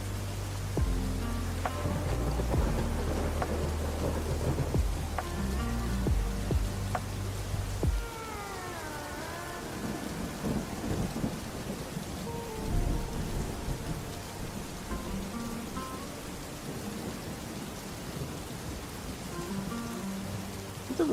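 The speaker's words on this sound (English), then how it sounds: "The rain is still a little bit too loud." Steady rain pours continuously with rolling thunder in a cozy ambience, while soft music plays underneath during the first part and then fades, leaving the rain alone.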